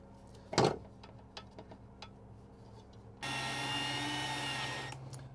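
A power drill drives a screw while installing a kitchen caddy, a steady whirring burst lasting about two seconds after some quiet handling clicks and a bump.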